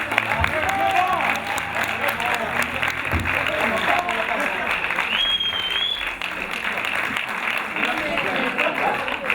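Audience applause fills the room in a sustained, dense roar of clapping, with voices talking and calling out over it.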